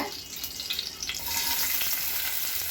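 Chopped garlic fries in hot oil in a wok for red pasta, a steady, fairly quiet sizzle that thickens and grows louder partway through, with faint stirring and no talking.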